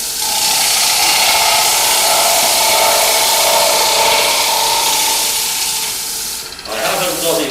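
A woodturning tool cuts wood on a lathe with a continuous loud, hissing, broadband scraping as shavings peel off, steady for several seconds before briefly easing and resuming.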